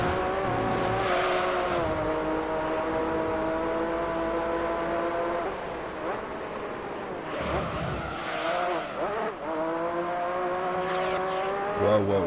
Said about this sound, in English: I'm gonna turn off race sound effects, so I don't have to hear this squishing noise that this car constantly makes